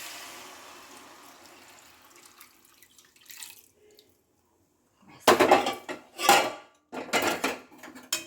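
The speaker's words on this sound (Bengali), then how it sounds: "এই দুধটা আমি আস্তে আস্তে করে ঢেলে দিচ্ছি" Thickened milk poured slowly into a pan of cooked carrot halwa, heard as a few loud bursts of splashing and sizzling after a quiet stretch of faint kitchen noise.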